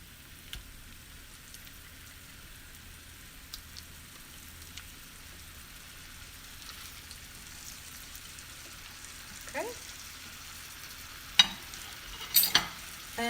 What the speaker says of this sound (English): And I will fry them from both sides now